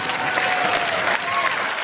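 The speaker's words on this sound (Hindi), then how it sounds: "इनके लिए भी जोरदार तालियां।" Loud, continuous applause fills the room from a large audience at the 2020 Filmfare Awards show, a dense, even wash of clapping with no pauses.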